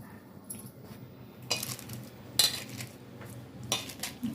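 A spoon clinks against a bowl while mixing salt into washed cauliflower florets for gobi manchurian, a few light scraping taps spaced out over a quiet kitchen background.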